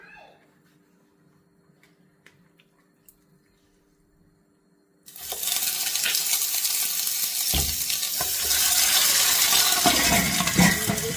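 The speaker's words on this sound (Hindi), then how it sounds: "अब हम इसमें चिकन को इसमें डालेंगे घी में, और इसको फ्राई करेंगे पहले" Chicken pieces drop into hot ghee and start frying, a quiet start giving way to a loud, dense sizzle that continues and swells further midway.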